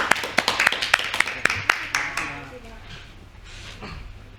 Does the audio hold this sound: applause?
yes